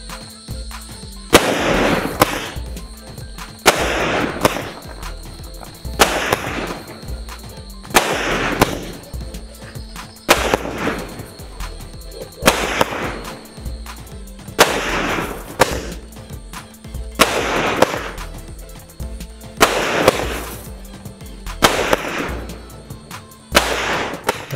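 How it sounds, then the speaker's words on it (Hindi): A Batman multiple crackling shot Diwali firecracker bursts nine times in a repeating rhythm, each launch followed by a loud crackling pop of colored sparks, with no talk over it. "बैटमैन मल्टीपल क्रैकलिंग शॉट के नाम से इस क्रैकर में से 9 बार फुलझड़ी जैसे डॉट्स ऊपर जाके फटते हैं अलग अलग कलर में"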